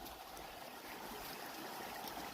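A creek in Arizona flowing steadily outdoors, a continuous rushing, bubbling wash of water at close range with no voices.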